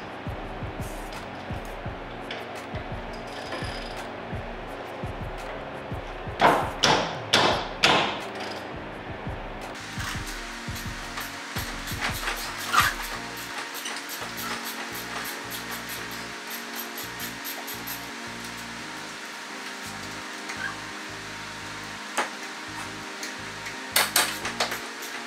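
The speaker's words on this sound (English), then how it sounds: "You need a 10 millimeter socket in order to pop that." A 10 mm socket works the brake caliper bolts loose on the front of an Arctic Cat XR/Alterra ATV. A cluster of sharp metallic knocks comes first, then steady ratchet-like clicking follows close by and moderately loud.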